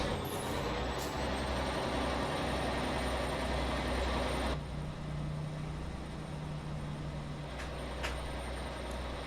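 A heavy truck engine drones and shifts in American Truck Simulator, a steady low rumble that drops in tone partway through, with faint high tones and clicks over the continuous engine noise.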